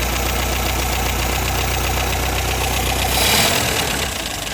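A fully restored classic Ford car's engine runs close by at a loud, steady idle with a low rumble and fine knocking pulse, its tone shifting briefly near the end.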